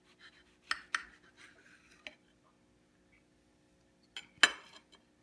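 A knife slices through a Black Krim tomato, giving a few soft, sharp cutting clicks and squishes spread across a quiet moment, with a louder cut near the end.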